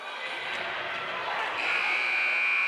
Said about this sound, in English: And there you hear the buzzer